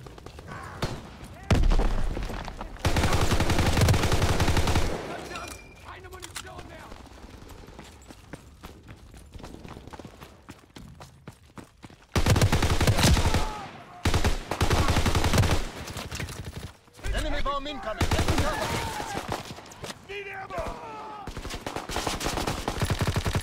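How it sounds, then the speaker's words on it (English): A silenced Tommy gun fires in Call of Duty: WWII in long, loud, rapid automatic bursts, several sustained volleys separated by quieter stretches with distant shots and movement. "Like a silenced Tommy gun."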